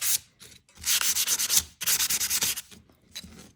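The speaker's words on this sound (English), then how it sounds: "I'm just taking my sandpaper, just going over my base a little bit." Sandpaper rubbed by hand over a wooden cart base in bursts of close, scratchy strokes: a short pass, then a long run of quick rhythmic rubs, a pause, and another steady series before it trails off.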